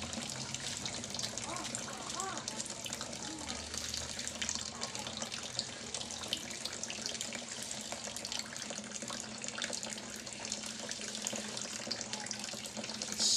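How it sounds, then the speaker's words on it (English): Water drains out of a container through a swirling vortex in a homemade pump experiment, a steady running, gushing rush that holds throughout, with a faint low hum beneath. "It's sucking up all the water in this container."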